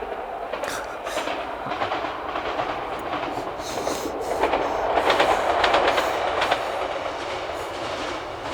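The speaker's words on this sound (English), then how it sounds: "There's another train coming." A train rumbles past close by, steady clickety-clack of wheels on rails building to a louder stretch midway before easing off.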